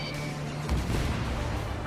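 Missile fire and explosions in the combat flight game Ace Combat 7, a sustained roaring rumble with a heavy blast bursting in partway through and continuing loud to the end.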